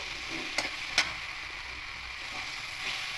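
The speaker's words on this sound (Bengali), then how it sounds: "আমি একটু মশলার সঙ্গে খুব ভালো করে কষিয়ে নিই" Potato, eggplant and long beans sauté with spices in a pan, a continuous close sizzle with two sharp stirring scrapes near the start.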